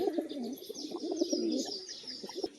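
A male and female pigeon pair coo close by, a soft, continuous low throaty rolling with faint higher chirps above it and no talking.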